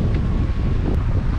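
Strong wind buffets the microphone aboard a sailboat under way at sea in about eleven knots of breeze, a loud, continuous roaring rush with low rumble and no voices.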